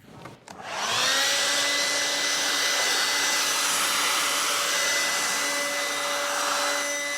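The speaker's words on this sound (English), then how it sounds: "what did I mean when I said to watercolour with a hairdryer?" A hairdryer switches on with a click and blows steadily at close range on wet watercolour paint on furniture, a loud, continuous whirring hum.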